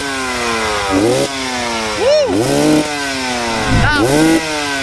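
A 2017 KTM 300 two-stroke dirt bike engine idles with a buzzy drone and is revved sharply three times, each rev climbing and dropping back quickly, close and loud.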